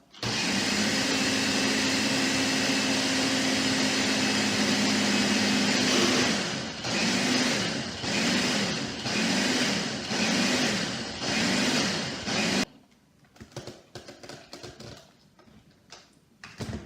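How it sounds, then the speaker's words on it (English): A blender whirs loudly at high speed, its motor pulsing in rhythmic surges, then cuts off abruptly, leaving faint clicks and handling noises. "blend on high till smooth"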